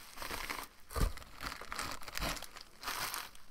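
Padding from an empty mailing envelope being handled, giving irregular crinkling and crumpling bursts, close and moderately loud, with no one speaking.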